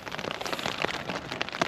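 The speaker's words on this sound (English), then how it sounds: "We're packing up from inside the tent today because it is raining." Rain drumming on a tent from inside during a wet morning on a coastal walking trail, a close, steady patter of drops with irregular sharper taps on the fabric and no voices.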